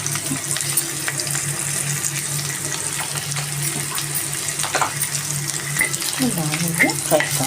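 Green chillies frying in a pan with salt for egg chicken rolls, a steady close sizzle with scraping stirring strokes growing busier toward the end.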